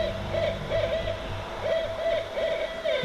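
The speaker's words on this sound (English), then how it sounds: "What would the Radio OwlsNest shows be without the sound of owls?" Owls hooting in the rafters, repeated soft hoots spaced in a loose rhythm over a low background hum, fairly close and clear.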